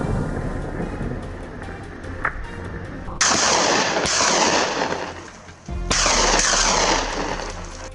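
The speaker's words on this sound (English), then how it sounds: "a gunshot rings out from James' position" A gunshot cracks out during a boar hunt, followed by a second loud blast a few seconds later, each with a long, rolling outdoor echo that fades into a rumbling background.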